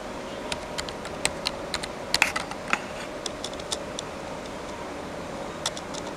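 Keys on a computer keyboard are tapped in scattered, irregular clicks, close and fairly crisp, with a brief flurry in the middle and steady low background hum throughout.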